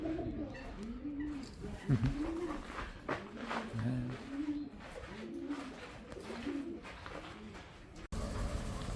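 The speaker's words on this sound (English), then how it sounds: "Pigeons!" Pigeons coo close by in Schwerin, Germany, repeated soft rolling calls in an irregular series, with faint talk and outdoor background underneath.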